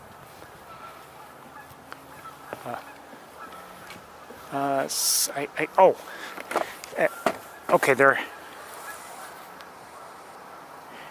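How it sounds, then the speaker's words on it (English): Geese honk near a pond in a burst of repeated calls, several close loud honks clustered midway, with brief speech and quiet outdoor ambience before and after. "I hear more geese."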